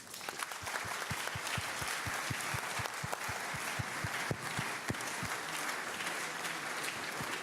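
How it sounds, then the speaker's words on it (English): Audience applause for a panel at a security conference hall, a fairly soft, continuous patter of clapping with a few nearer hands striking in a steady, regular beat. "Let's give the panel a round of applause."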